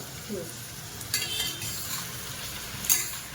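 A spoon stirs stuffed bitter gourd cooking in oil in a pan, with soft scraping strokes and faint clinks over a low steady sizzle, close up and without talk.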